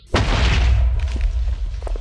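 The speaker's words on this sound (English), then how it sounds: "Makes a tiny explosion." A thrown item in a Minecraft creepypasta mod sets off a tiny explosion. It is one sharp, loud boom that fades into a short rumbling tail, alone with no talk.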